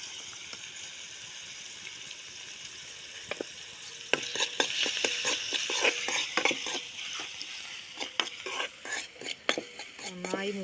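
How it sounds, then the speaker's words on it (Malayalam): Onion, tomato and coriander leaves fry in a pan while being stirred, a soft sizzle at first, then a run of sharp scraping and clinking spoon strokes against the metal growing louder and busier. "മല്ലിയിലും നന്നായി ഇളക്കി കൊടുക്കുക"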